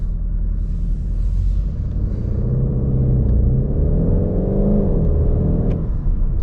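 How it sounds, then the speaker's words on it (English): From inside the cabin of a VW Golf 8 GTD with its 200 hp diesel engine, a deep, steady drone builds under acceleration on the Autobahn. A rising tone climbs then falls back near the end. There is no talking. "You can already hear the sound, quite good for a diesel, specifically inside"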